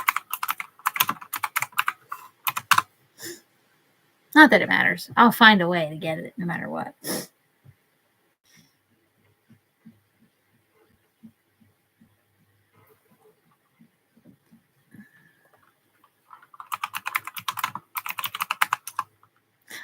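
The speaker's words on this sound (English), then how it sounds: "Why am I typing up there?" Rapid clicking on a computer keyboard comes in close bursts at the start and again near the end, with someone talking in between and a long quiet stretch in the middle.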